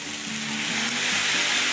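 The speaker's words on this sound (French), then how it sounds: "je fais tout revenir dans un petit peu d'huile d'olive" Vegetables and pak choy sauté in olive oil in a hot pan, a loud, dense, continuous sizzle heard up close with faint stirring underneath and no voices.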